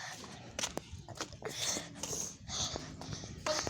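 A dog moves about close by, with snuffling breaths, shuffling steps and soft whimpery sounds in short bursts, amid faint background noise.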